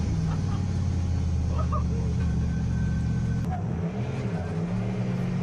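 A drift car sets off on a track run at a drift event, its engine droning and revving in a steady, loud note up close, with changing pitch as it moves off.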